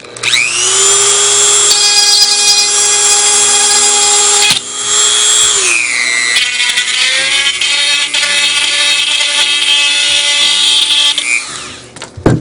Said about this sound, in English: then I'll go back and grind just a little bit more off.